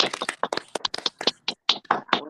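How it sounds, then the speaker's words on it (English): A small group clapping on a morning radio show, a loose run of sharp, separate claps in irregular rhythm, close and fairly loud, with short gaps between them and no speech. "Let's clap for that."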